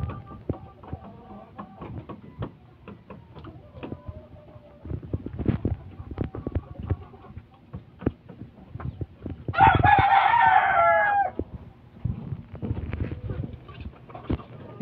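Gamecock and chicks outdoors, with repeated clucking and a loud, close rooster crow in the middle, over rustling, thumping movement and scattered clicks.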